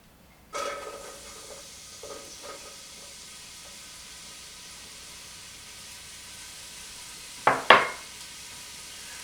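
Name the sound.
chopped onion frying in heated olive oil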